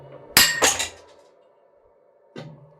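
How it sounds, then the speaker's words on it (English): A Charpy impact test hammer swings down and strikes a notched metal specimen, giving a sharp metallic crack followed by a ringing clatter, then another brief clink a couple of seconds later in a quiet room. "When the test starts, the hammer drops down and its striking edge hits the test piece."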